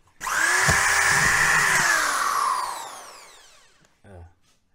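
A power drill whirs for about two seconds, driving a screw through plasterboard, then winds down and stops, followed by a short faint rattle. Loud and close, with no talking over it.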